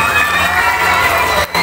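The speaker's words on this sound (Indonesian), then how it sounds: "Okey, tepuk tangan semua." Children at a school traditional costume contest cheer and shout loudly, a dense crowd roar of young voices close by, sustained throughout with a brief dip near the end.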